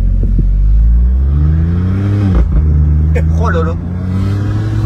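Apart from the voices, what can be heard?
car engine revving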